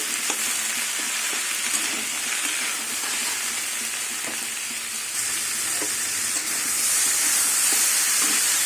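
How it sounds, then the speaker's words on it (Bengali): Spinach and mixed vegetables fry in a pan with salt, giving a steady, close sizzle with stirring scrapes throughout, growing slightly louder near the end, with no talking. "এবার নুন দিয়ে কিছুক্ষণ আবার ভাজবো"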